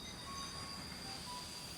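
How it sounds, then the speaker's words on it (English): Steam train at Dessau station in 1926, heard as a steady, loud rumble of rolling rail cars with faint high wheel squeal over it, continuous and close for under two seconds. "On December 4th, 1926, a steam train pulled into Dessau station."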